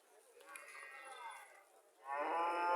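A dairy cow at a cattle market in Cumilla moos nearby: one long, drawn-out call, then a second, louder call.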